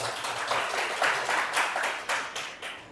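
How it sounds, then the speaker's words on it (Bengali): An audience breaks into a brief round of hand clapping, a dense patter of many claps that pulses in loose waves for a few seconds without any talking. "কেউ একটা হাততালি দাও ভাই।"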